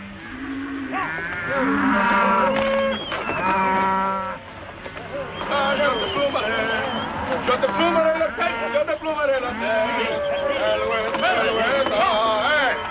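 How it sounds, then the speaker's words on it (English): Cattle moo in long, drawn-out calls, some overlapping, fairly loud and close, with background voices and outdoor noise. "Those is nice tender cows."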